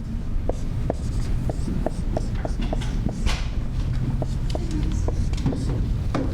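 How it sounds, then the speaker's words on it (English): Chalk or marker strokes on a board while rational equations are worked out, a steady run of short scratchy taps and squeaks over constant room hum, with no talk. "I'm just going to write what I have on top."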